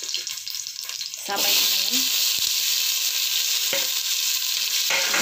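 Garlic drops into a hot pan and sizzles loudly and steadily at close range, with someone speaking briefly just before it hits the oil.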